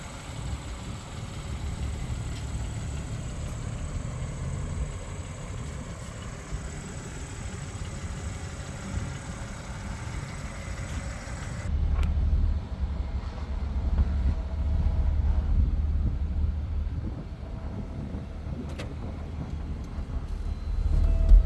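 A 2022 BMW M4 Competition engine pulls off on a test drive: a steady, close low rumble that swells louder about halfway through and holds there, with no talk.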